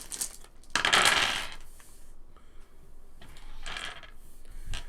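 Translucent plastic polyhedral dice clatter and rattle together as they are poured from a bag, in two main bursts of close, bright tumbling clicks.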